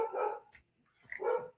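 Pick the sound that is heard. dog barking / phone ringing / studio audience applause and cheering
dog barking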